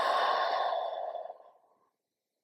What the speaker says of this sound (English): we're going to take a deep in breath